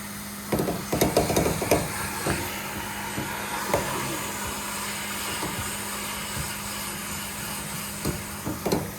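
A vacuum brush attachment scrubs and sucks dust from a Whirlpool refrigerator, a steady suction hum with repeated close knocks and scraping strokes of the brush throughout.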